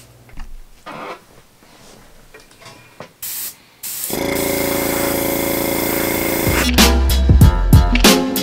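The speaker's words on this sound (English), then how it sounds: "I'm gonna paste them around and then airbrush them a little bit to make them look like more like twigs" Airbrush spraying paint onto weeds on a miniature diorama: after some faint handling clicks, a close, steady hiss starts and runs continuously, with a louder low rumble and clatter joining near the end.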